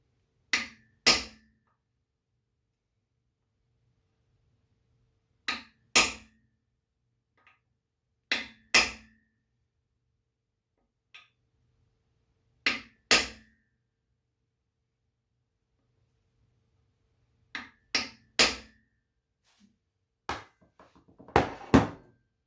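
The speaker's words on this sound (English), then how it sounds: "you're going to use the socket to get them down about where they were originally" Sharp metallic taps of a socket driving freeze plugs into a 7MGTE engine block come in short clusters of two or three, with pauses between groups and a quicker flurry at the end; no voices.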